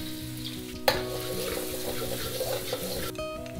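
Garlic added to hot oil in a pan for restaurant-style chilli chicken, a sudden loud sizzle burst that settles into steady crackling frying, close and continuous.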